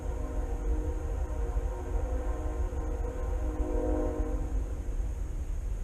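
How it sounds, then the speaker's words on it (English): A train rumbles steadily past, a deep continuous roar with rattling wheels and faint horn tones, loud and unbroken throughout. "Got a train going by, so it may be a little noisy."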